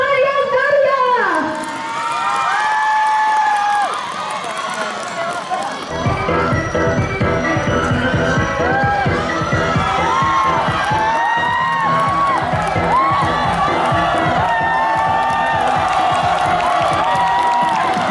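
A school audience at a student council candidates' public debate in SMAN 1 Pasir Limau Kapas breaks into loud, sustained applause and cheering with whoops and shouting, filling the hall after a brief quieter start.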